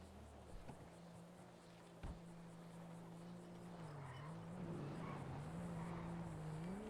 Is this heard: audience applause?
no